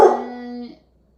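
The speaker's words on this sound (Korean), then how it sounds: "지금 제 개가 짖고 있네요." A large dog gives a single close, loud bark that trails into a short tonal howl-like tail and then falls silent.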